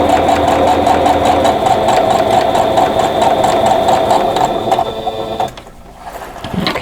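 A sewing machine stitches down a quilt block with a steady, rapid mechanical chatter that runs continuously and close, then stops abruptly near the end, leaving a short quiet pause before a faint rustle.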